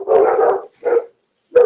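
Dogs bark in three bursts, two close together and a third after a pause, loud and near, with no talk over them.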